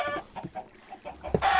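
Chickens in Minecraft cluck in short repeated bursts, a few quick calls spread across the moment and fairly close, with no talking over them.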